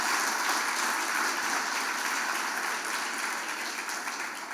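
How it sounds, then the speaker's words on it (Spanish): A church congregation applauds during a Sunday morning service, steady dense clapping sustained throughout and fading slightly toward the end, with no voices over it. "Denle un aplauso al Señor en esta mañana"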